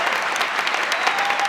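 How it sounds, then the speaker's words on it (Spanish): Steady, dense applause from an audience at a university talk, welcoming speaker Lucas Rodríguez, continuous and fairly loud without pauses or voices. "un fuerte aplauso para Lucas Rodríguez"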